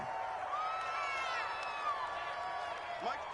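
A stadium crowd murmurs and cheers in a Madden 21 football game between the Bills and Dolphins, a steady low roar with whistles and faint shouts, held at a moderate level.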